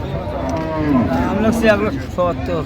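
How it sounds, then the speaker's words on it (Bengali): A cow moos loudly and close up at a cattle market, a long low bellow with a second shorter call after it. "গাভি বাছুর"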